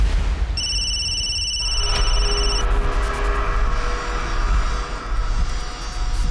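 A telephone rings with a steady electronic tone over a loud, continuous engine-like rumble that fills the background.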